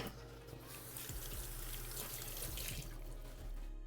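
Juice is poured over a salad, producing a faint, steady trickle of liquid close by with no voices.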